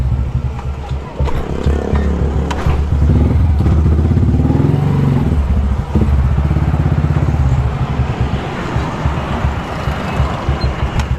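A Pinoy 125 motorcycle engine sputters and revs nearby, its uneven clattering rumble swelling and then settling into a rough idle.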